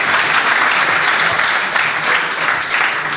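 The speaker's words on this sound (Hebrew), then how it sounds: "מחיאות כפיים סוערות" An audience at a Hebrew University startup event applauds, a dense, loud, continuous clapping from start to finish with no voices above it.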